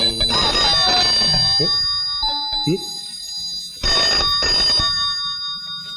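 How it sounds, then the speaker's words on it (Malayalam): An old-style telephone bell rings in two loud bursts indoors, with a quiet gap and scattered voices and movement between the rings. "ഫോൺ ബെല്ലടിക്കുന്നത് നിനക്ക് കേട്ടൂടെ"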